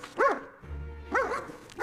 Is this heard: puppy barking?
yes